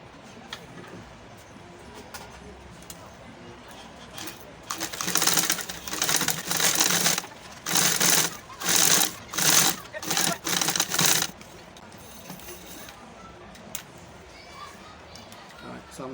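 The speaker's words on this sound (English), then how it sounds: "I'll come back and sew here to this part" A sewing machine stitching the rounded front facing of a shirt: several short bursts of rapid whirring stitching in a row, with quieter background sound and some voices before and after.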